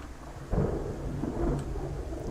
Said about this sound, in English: The visibility in this kind of rain is just awful.